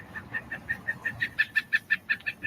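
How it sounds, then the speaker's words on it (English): A woodpecker's goofy laughing call from a garden recording: a quick, even run of about fourteen sharp notes that starts softly and grows louder and more insistent, heard alone. "I've never heard that goofy woodpecker laugh like that before"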